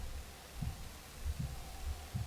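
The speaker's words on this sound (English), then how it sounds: "We've got like a heartbeat sort of thing going right now." Heartbeat sound effect in a gliding video game, a steady low double thump repeating about every three-quarters of a second over a constant hum.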